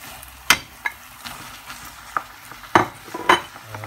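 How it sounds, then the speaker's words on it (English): Mincemeat for chilli con carne fries softly in a pan, with a few sharp clicks and scrapes from a utensil against the metal. The scrapes come scattered over a low, steady sizzle. "Cook the mincemeat for about another 5-6 minutes."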